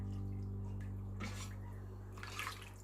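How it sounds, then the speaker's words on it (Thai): Chicken broth poured into a rice cooker pot for Thai chicken rice, a steady liquid pour and splash under a constant low hum, with faint brief splashes toward the end. "เอาน้ำซุปใส่แล้วนะคะ่ะก็เอามาใส่หมอหุงเลยค่ะ"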